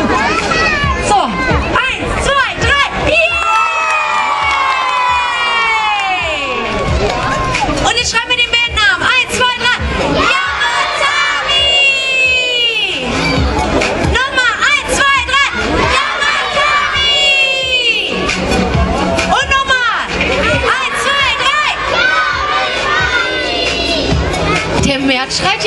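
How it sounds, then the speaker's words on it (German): A crowd of children shouts and screams loudly and continuously, high voices overlapping in waves with scattered clapping, very close and with almost no pauses. "Einfach nur klatschen und schreien."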